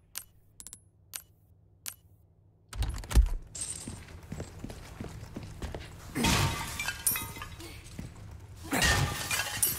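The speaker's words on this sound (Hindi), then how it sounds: "कैसल में कंटेनर्स के साथ साथ ये कीमती वाले वासेस भी हैं जिनको तोड़कर अंदर से सामान मिलेगा" Ceramic vases smashed in a castle in Resident Evil 4 Remake, sharp shattering crashes with scattered tinkling shards, preceded by a few small clicks and followed by quieter ambient rumble and a commentator talking.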